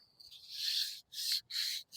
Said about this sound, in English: I'm gonna sand the inside of the top because I'm gonna paint the inside chrome